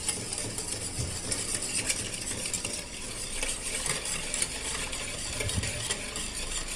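A spoon stirs eight tablespoons of oil into mug cake batter, steady close scraping and soft wet mixing strokes with light clinks against the mug, with no talking.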